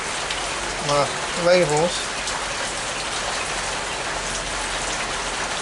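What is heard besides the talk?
rain falling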